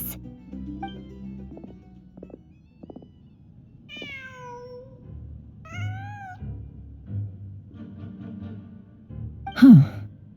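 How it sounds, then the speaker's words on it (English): A cat meows a few times within the video game Genshin Impact, short rising calls over a quiet, low ambient background, with a louder sound bursting near the end. "Just a cat."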